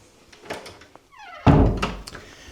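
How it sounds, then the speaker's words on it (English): Door in a flat upstairs of a B&B being shut and locked, a creak or slide followed by a solid heavy thunk close by, with some faint handling noise before and after. "we could have this door closed and locked,"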